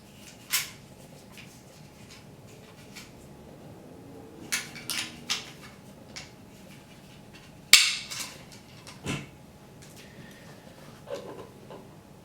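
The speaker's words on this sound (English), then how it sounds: "Go ahead and put the spring back in here." A recoil spring being refitted into a TP-9 pistol gives scattered light metallic clicks and taps up close, with quiet pauses between them.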